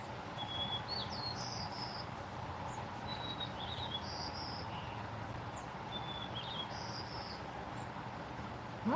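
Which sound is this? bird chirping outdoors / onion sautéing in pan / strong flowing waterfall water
bird chirping outdoors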